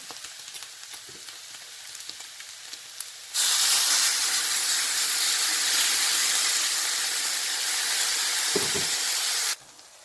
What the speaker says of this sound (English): I'm going to loosen the sauce or create a sauce by adding a dash of boiling water now.